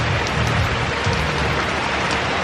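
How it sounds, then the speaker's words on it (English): Steady rain falling in the Philippines during the rainy season, a dense, continuous hiss of drops on surfaces, loud and close with no break and no voices. "It's raining."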